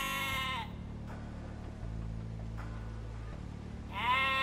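A sheep bleats in Age of Empires II: Definitive Edition on Xbox Series X/S: a wavering bleat opens the moment and another follows near the end, with a low game ambience humming steadily underneath.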